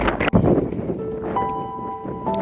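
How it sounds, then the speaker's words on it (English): Strong wind buffets the microphone on an exposed mountain trail near Sam's Knob on the Art Loeb Trail, a loud continuous roar with rumbling gusts and no voices. "It's still windy up here."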